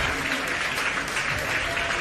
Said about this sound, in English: Everyone's clapping.